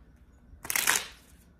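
Playing cards riffle-shuffled once, a brief papery burst lasting about half a second, close and fairly loud against a quiet room.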